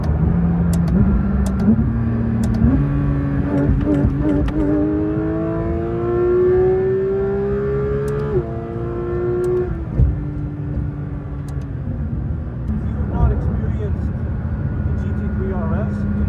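A Porsche 992 GT3 RS engine revs up in rising steps, holds, then drops back to a rumbling idle, loud and close, with a few sharp clicks.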